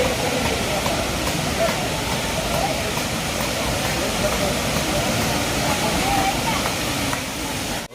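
Gundichaghagi waterfall in Keonjhar, Odisha roars as a dense, steady wash of rushing water, loud and constant throughout with no pause.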